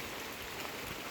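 Rain falling on a pigeon loft makes a dense, continuous patter and hiss, close and uniform across the short moment, with no voices.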